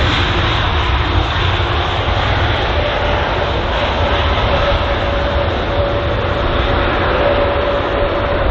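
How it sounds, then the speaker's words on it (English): Airbus A320neo jet engines roar steadily and loudly as the aircraft vacates the runway at London Heathrow, a continuous broadband rumble with a faint whine. "Just vacating off the runway there is the A320neo."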